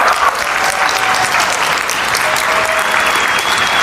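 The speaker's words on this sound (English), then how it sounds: "Let's give all the brand new people a round of applause." A convention audience in Las Vegas applauds first-time attendees, loud continuous clapping with a faint whistle or cheer riding on top.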